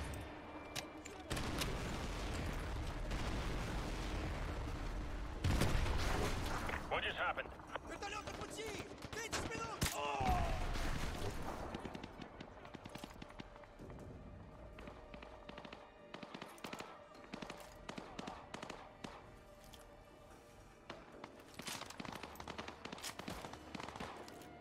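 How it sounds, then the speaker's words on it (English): Explosions and bursts of gunfire in the video game Call of Duty: Modern Warfare 2, heavy blasts and rattling shots clustered early, then scattered fainter pops, with game voices talking between them. "Those explosions are gonna attract a lot of attention."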